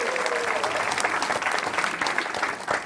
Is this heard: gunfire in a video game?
no